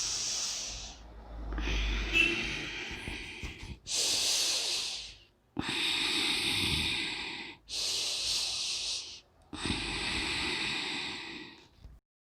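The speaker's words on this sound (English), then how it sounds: "Repeat this 9 times, inhaling and exhaling deeply" Slow, deep breaths during a breathing exercise, six or so long airy inhales and exhales in steady alternation, each lasting about two seconds with short pauses between, close and breathy with no talking.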